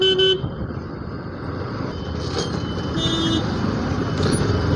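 Continuous roar of road traffic with engines rumbling nearby, punctuated by a couple of short car horn toots, one at the start and another midway.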